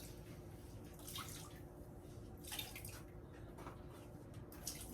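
Wet sculpting cloths are wrung out by hand, giving a few soft close bursts of squeezing and dripping water separated by pauses, faint against a quiet room.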